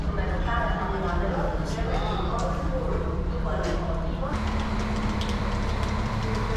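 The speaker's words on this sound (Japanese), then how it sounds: "前方右手は空港行きの列車のようです。" Train rolling through Bucharest station, a continuous low rumble with rhythmic clattering wheels and a steady hum, heard nearby amid ambient platform noise.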